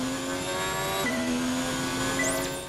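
Formula 1 car in the F1 2019 racing game accelerating out of a downhill braking zone on a track, a steady high-pitched engine whine climbing through gears with a brief shift, loud and close.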